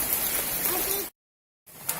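Steady rain hisses on a surface in the open air at Helena Sky Bridge, Bantimurung, Maros, loud and continuous, cut by a sudden half-second dropout before resuming with a brief patter.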